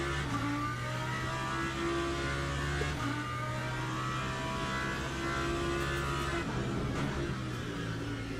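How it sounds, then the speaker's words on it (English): Lamborghini GT3 race car engine in the Le Mans Ultimate racing game, a steady droning roar that shifts pitch with gear changes around every few seconds, moderately loud with a whirring high end, no talk. "How do you love the GT3 sound of that Lambo?"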